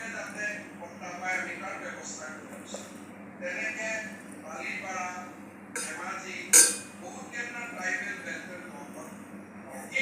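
Dishes and cutlery clink and clatter during washing in a home kitchen, with a sharp louder clink near the middle, while a voice talks over the scraping and rattling.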